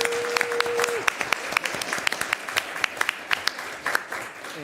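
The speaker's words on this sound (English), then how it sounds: "And now I'll ask everybody to give the girls a round of applause." Audience clapping for a girls' team at a city council meeting, a scattered round of individual claps building across the room, with a brief tone at the start.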